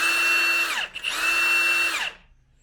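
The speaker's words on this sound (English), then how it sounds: "Let's put it in this high torque mode and see how it spins fast in this mode when there's no load" A Milwaukee power tool spinning fast with no load in high torque mode, two close whirring bursts with a whine that rises quickly and winds down, the second one fading out.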